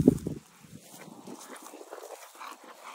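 A dog gives a short sharp sound at the start, followed by soft whimpering and faint shuffling movement nearby.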